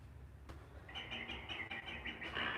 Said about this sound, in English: Oh, there's an owl up here.